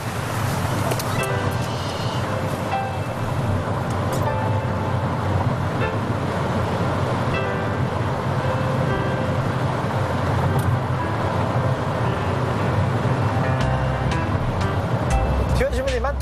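Busy road traffic with cars passing in a continuous dense roar and occasional short horn toots, loud and close, with people talking over it.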